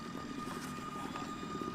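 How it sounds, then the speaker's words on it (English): A large remote-controlled aeroplane drones overhead with a steady, buzzing engine hum and broad whooshing noise, continuous and moderately distant throughout. "a large remote-controlled aeroplane will carry Herky aloft and then drop him"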